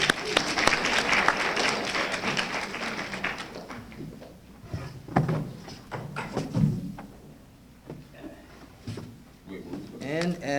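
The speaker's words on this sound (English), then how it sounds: "Let's give them another hand of applause" A burst of audience clapping at a university poetry festival, loud and dense at first, then thinning into scattered claps with voices talking over it.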